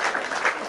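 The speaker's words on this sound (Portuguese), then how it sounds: "é uma salva de palmas" A brief round of applause from an audience at a relaxed talk with a former fisheries minister of Guinea, a dense, steady wash of many hands clapping at moderate loudness.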